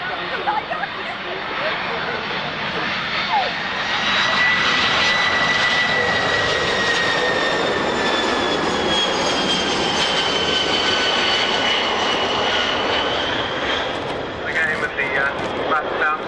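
A Boeing 767 at a 1998 Army Air Corps airshow at Middle Wallop spools up its jet engines, a loud sustained roar with rising whine tones that builds and holds for many seconds while an announcer talks over it.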